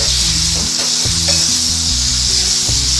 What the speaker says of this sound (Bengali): ভালো করে এবার নাড়বো টমেটোগুলোও দিয়ে দিচ্ছি